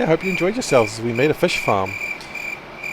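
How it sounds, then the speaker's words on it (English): Crickets chirp in a steady, high, continuous trill that runs behind someone talking and stays on alone after he stops. "Oh, guys, the crickets. I get it. I hear them. I hear the crickets."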